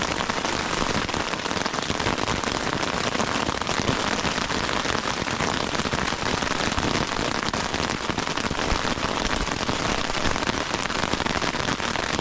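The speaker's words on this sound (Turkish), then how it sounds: "pikniğe gelir gelmez arabadan iner inmez hemen yağmur yağdı" Heavy rain falls on a tent at a forest picnic spot, a dense, continuous patter of drops with crackling hits, loud and close, with no voices.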